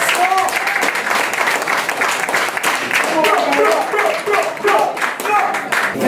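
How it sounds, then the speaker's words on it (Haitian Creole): A crowd at a public gathering applauds a magistrate with dense, sustained clapping, loud and close, while voices murmur and call out underneath. "nous allons applaudir le magistrat"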